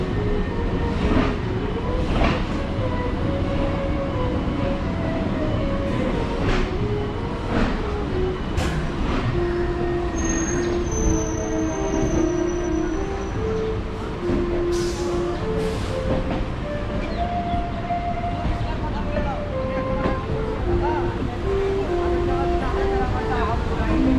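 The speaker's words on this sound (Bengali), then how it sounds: "আর আজকে ট্রেনটা ছাড়ছে 10 নম্বর প্ল্যাটফর্ম থেকে" Dum Dum Cantonment local train, a TWL rake, pulls away from a platform with a steady loud rumble and rattle, faint horn-like tones and brief squeals over it, while voices chatter nearby.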